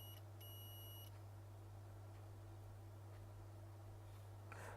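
An iPhone 6s under display repair, with a short on the AP_TO_LCM_RESET_CONN_L line, gives a brief, faint, high-pitched beep in two quick bursts over a constant low electrical hum on the bench.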